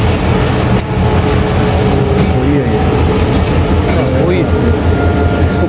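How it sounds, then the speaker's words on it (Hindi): The empty Khyber Mail train rake rolls into Peshawar Cantt railway station with a steady low rumble and clattering wheels, a continuous heavy drone throughout, with voices murmuring faintly underneath. "ये खैबर मेल के एम्प्टी रैक्स जो हैं वो पहुँच रहे हैं।"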